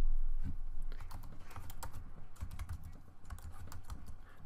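Rapid clicking of a computer keyboard as commands are typed into a terminal, steady close-up keystrokes with a few louder taps, no voices.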